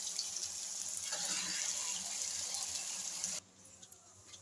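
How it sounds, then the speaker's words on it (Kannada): Water poured from a tap into a mixer jar holding ground masala for fish curry, a steady splashing fill that runs for a few seconds and then stops abruptly. "ಮಸಾಲೆ ಹಾಕಿದ ನಂತರ ಜಾರಿಗೆ ಸ್ವಲ್ಪ ನೀರು ಸೇರಿಸ್ಕೊಂಡು"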